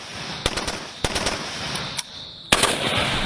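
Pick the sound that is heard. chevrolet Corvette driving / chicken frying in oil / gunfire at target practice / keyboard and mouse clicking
gunfire at target practice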